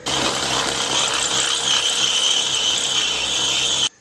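Power drill boring a half-inch hole through the steel frame of a Chevy Express van, a loud continuous grinding whine that holds steady for nearly four seconds before cutting off abruptly.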